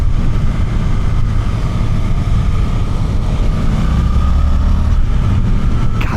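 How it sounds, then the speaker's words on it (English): A Suzuki GSX-8TT motorcycle engine growls deeply under load while riding, a loud, continuous low rumble with wind noise and no talking. "I love how these engines sound under load. It's got this really deep growl to it."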